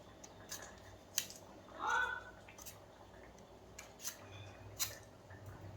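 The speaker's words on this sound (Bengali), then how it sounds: "তাই আমটা কাটছি।" A mango is cut up for chutney in a home kitchen, giving soft, scattered clicks and light scraping at close range over a low background hum, with a brief voice in the middle.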